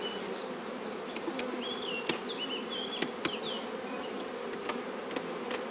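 Honeybees buzz steadily in an open beehive with a raised super during a hive inspection, a dense continuous hum with individual bees whining past nearby and occasional faint clicks.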